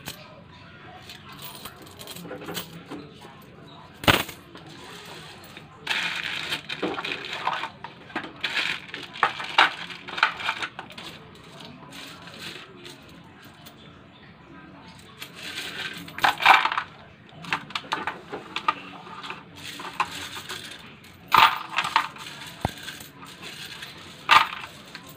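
US coins, including quarters, half dollars and dimes, clink and jingle as they are picked up from a road, with repeated bursts of metallic rattling spread across the whole stretch.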